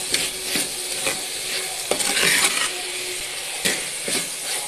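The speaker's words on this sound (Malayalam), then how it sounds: "നമുക്ക് കരിയാപ്പില ഇടാം." A generous handful of fresh curry leaves goes into a hot pan of softened onions for chicken teeyal, crackling and sizzling close by under repeated scraping stirs and sharp utensil knocks.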